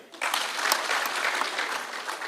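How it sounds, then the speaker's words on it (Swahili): An audience claps at a public security meeting, applause breaking out suddenly after a brief quiet and continuing steadily, fairly close and loud. "Pigia hao makofi"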